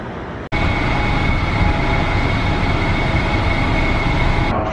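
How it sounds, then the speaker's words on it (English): Subway train approaching Jamaica Station in New York: a loud, steady rumble with a constant high whine that holds unbroken for several seconds after a brief dropout, with no voices. "Express Train to Penn Station. Now approaching on track 2."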